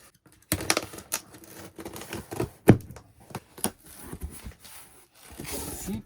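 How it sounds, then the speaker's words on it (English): Bubble wrap being handled around a cardboard short box of comics, giving irregular crinkling and crackling bursts with sharp pops, close and fairly loud, with no talking. "See, bubble wrap."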